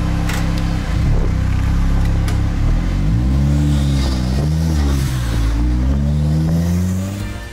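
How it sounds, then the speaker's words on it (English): A turbocharged Rewaco GT three-wheeled trike engine revs loud and near, its pitch climbing in repeated waves as it accelerates hard, with no talking. "my road trip in Europe on one of the most unique machines of all times, the Rewaco GT"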